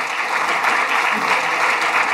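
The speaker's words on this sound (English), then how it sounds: "So a big round of applause." A conference audience at a medical meeting session claps together in a dense, steady round of applause, loud and close, filling the whole short stretch without a break.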